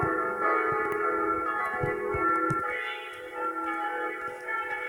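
An old church bell, hung since 1977, rings steadily with a sustained, reverberant tone that fades slightly toward the end.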